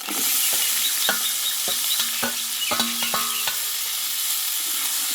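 Marinated peas and potatoes for Bengali ghugni fry in a pan, a steady close sizzle broken by several sharp clinks of a spoon stirring against the metal.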